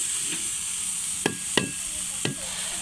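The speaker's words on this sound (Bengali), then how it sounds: "যেই কড়াতে মাছ ভাজছি ওই কড়াতে আমি দিয়ে দেবো পেঁয়াজ বাটা" Pangas fish sizzles in a pan with onion paste, a steady hiss punctuated by three sharp spatula scrapes or taps.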